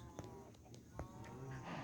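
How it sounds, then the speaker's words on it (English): Low, drawn-out video game cow moos sounding faintly over a constant ambient drone, with a few soft clicks and knocks mixed in. "My cows."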